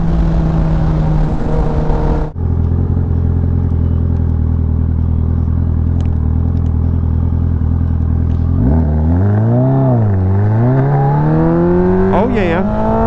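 A Kawasaki ZX14r sport motorcycle rides along curving country roads, its engine droning loud and steady from close by, then rising and falling in pitch as it revs and shifts; a rider speaks briefly over it.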